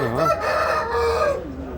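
A rooster crows loudly and close by in a single drawn-out call that rises and falls.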